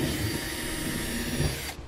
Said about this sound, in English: now we will drill a small pilot hole